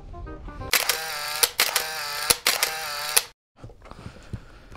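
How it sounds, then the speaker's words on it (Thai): A camera shutter snapping photos on a hiking trip up a mountain viewpoint, heard as a few loud, sharp clicks in quick succession followed by a brief pause and quieter handling noise. "เดี๋ยวเรามาแชะกันหน่อย"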